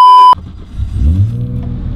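A Nissan Skyline engine turns over after a short electronic beep and rises into a low, rough rev that swells and holds, loud and close.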